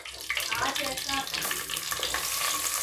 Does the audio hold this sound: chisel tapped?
no